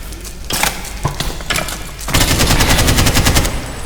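Automatic fire bursts from a machine gun in a video game, starting as short broken volleys and then a sustained rapid rattle, loud and close with no talk.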